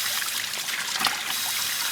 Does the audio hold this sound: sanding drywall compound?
no